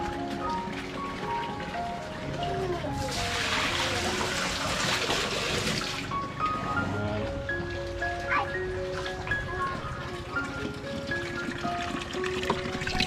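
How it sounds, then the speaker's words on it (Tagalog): Strong water rushing in a steady burst for a few seconds, with faint background voices and a tinkly melody around it. "lakas ng tubig"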